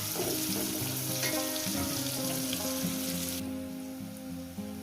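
Onions frying in oil in a pan, a close, dense sizzle that runs steadily before thinning and softening toward the end.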